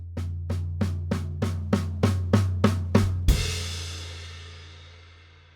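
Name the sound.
drum fill on snare and floor tom, quiet building louder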